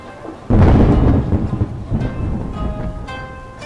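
Rain sets in abruptly as a loud, dense, steady rush, cold and near dark, carrying on under faint sustained musical tones.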